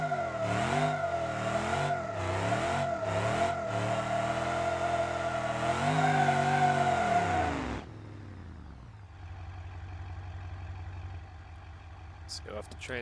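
A car in the BeamNG.drive game revving hard on a drag strip, its engine note climbing and shifting through several gears before cutting to a lower steady drone, with someone talking over it.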